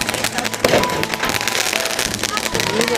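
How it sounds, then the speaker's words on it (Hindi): Rapid, dense crackling bursts of firecrackers go off continuously at a village wedding, loud and close, with voices faintly mixed in beneath the popping. "यहाँ पर लड़की के दरवाजे पर ये जो है बम फूटा जा रहा है"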